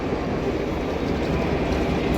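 A vintage steam train passes on a Sydney rail line, its wagons producing a loud, continuous rumble and rattle of wheels on track throughout.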